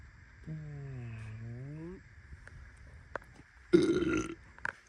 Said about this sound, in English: Rate that burp down below.